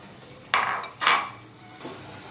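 Cooked rice tipped into a pan of sautéed tomato for tomato rice. Two quick scraping clatters of a utensil against the pan are followed by a softer scrape, with no talk.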